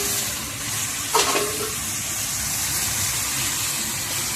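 Washed raw chicken pieces drop into a hot pan of curry masala with a sudden splashy sizzle, then settle into a steady frying hiss.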